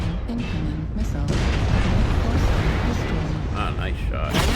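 A deep, sustained rumble of a weapon explosion and mech combat in MechWarrior Online, dense booming and mechanical noise filling the whole stretch, with brief radio-like voice fragments layered on top.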